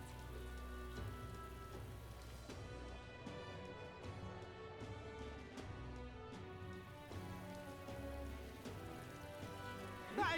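Steady rain falling in the video game Metaphor: ReFantazio, a dense continuous patter of drops on surfaces with occasional sharper splashes, even and full throughout.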